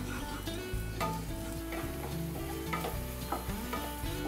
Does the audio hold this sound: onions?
yes